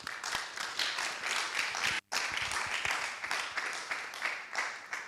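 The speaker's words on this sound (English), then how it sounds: "a big round of applause for the summary of 20 years, 10 years" Applause rolls through a hall at a Tanzanian health summit forum, many hands clapping in a fairly quiet, even patter with a brief gap before it resumes.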